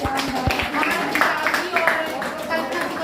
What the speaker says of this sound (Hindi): तालियां बजा लो भाई